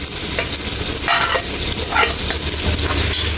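Onions hit a hot pan with half a kilo of mutton for arvi gosht and fry in a loud, steady sizzle, with stirring scrapes breaking through at intervals, and no talking.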